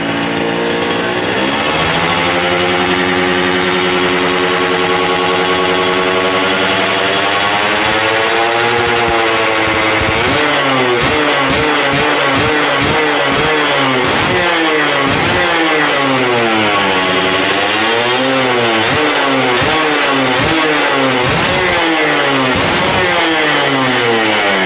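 Stock Suzuki Satria motorcycle with standard exhaust, P24 carburettor and standard ignition, its engine revving up and down repeatedly in loud, close bursts over a steady idle, with sharp throttle blips toward the end.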